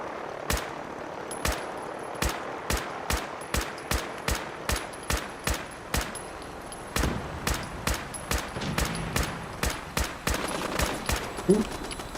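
Gunfire in Fallout 4 rings out as a long series of sharp, evenly spaced shots, roughly two per second, loud and close, with a brief grunt of a voice near the end.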